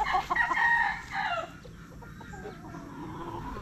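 Gamecock stags crow nearby, one strained rising crow in the first seconds, then fading into quieter clucking and farmyard ambience.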